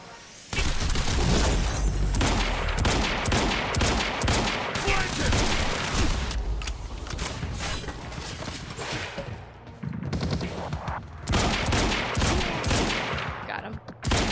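Rifle gunfire in the video game Quantum Break, with loud, dense bursts of rapid shots and booms filling most of the stretch, briefly dropping out before resuming.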